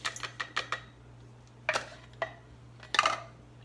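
Dry beans rattle into a pint glass canning jar in a kitchen. Quick clusters of sharp clicks and ticks come in bursts, with a faint steady hum between them.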